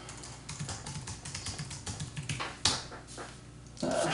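Someone types a password on a computer keyboard to log in, a quick irregular run of close, quiet key clicks with a couple of sharper taps near the end.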